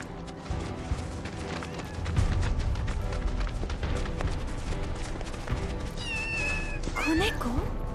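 A kitten in Final Fantasy VII Rebirth gives a few high, wavering meows near the end, rising over busy game music and sound effects, with voices talking throughout.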